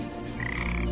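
A frog croaks in one short, loud, rasping call heard close up, with no talk over it.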